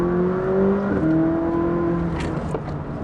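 A McLaren 600LT in sport mode accelerating hard from inside the cabin, the engine's steady rising whine climbing through the revs with a brief shift break, loud and close with no talk.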